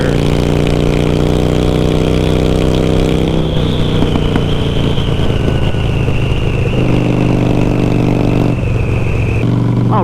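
A Harley-Davidson Sportster fitted with loud aftermarket exhaust pipes roars continuously as it pulls through the gears, engine pitch climbing and dropping with each shift, heavy and close throughout.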